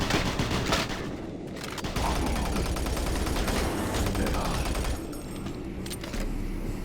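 Gunfire from a shotgun in the video game Doom 3, a loud dense barrage of blasts and booms filling the whole stretch with little pause.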